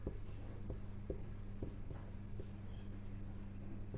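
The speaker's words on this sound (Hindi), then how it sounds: "अब हम लोग इसके स्टेप्स के बारे में लिखेंगे।" Pen scratching across paper as class notes on crop production steps are written, with steady strokes and small taps over a constant low hum, close and fairly quiet.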